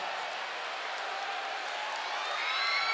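A large festival crowd at a Lil Uzi Vert set at Governors Ball 2018 cheers and roars in a steady, broad wash of noise, swelling slightly near the end.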